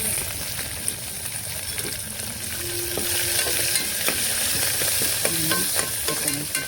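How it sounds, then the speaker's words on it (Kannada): Garlic sizzles and crackles steadily in hot oil for a sambar tempering with palak, a continuous frying hiss with occasional stirring clinks, close and fairly loud. "ಈ ಬೆಳ್ಳುಳ್ಳಿ ಕೆಂಪಾಗಸ್ತನ ಸುಡಬೇಕು"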